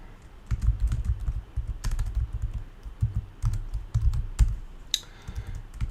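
Rapid typing on a computer keyboard, close and clear, with uneven bursts of key clicks and short pauses throughout, no voices.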